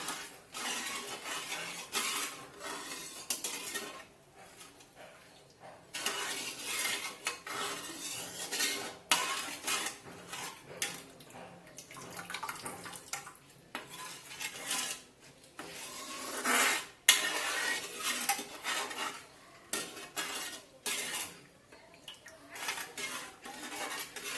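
Milk with sev, green chilli and spice powder being mixed in a pot for Rajasthani sev doodh: a spoon scrapes and knocks against the metal in uneven strokes, with clinks and short pauses over a long stretch.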